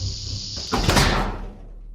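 A heavy safe door swings shut, one dull, muffled thud and brief rumble rising out of a quiet background, with no voices.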